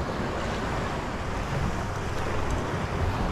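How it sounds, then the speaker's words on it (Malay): Strong, rough sea waves wash against the shore at a fishing spot, a loud, continuous roar of surf with wind buffeting the microphone throughout. "Woi, kuat ombak."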